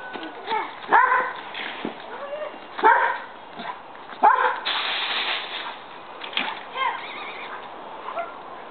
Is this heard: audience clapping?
no